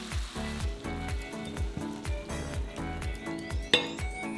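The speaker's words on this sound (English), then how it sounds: "Then add the diced lamb and fry for about 3 to 4 minutes until browned all over." Diced lamb sizzles steadily in a hot pan while browning, a close crackling hiss with soft rhythmic stirring and a sharp clink near the end.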